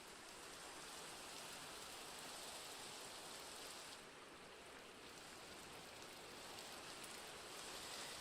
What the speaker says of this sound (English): hopefully the rain will not only go away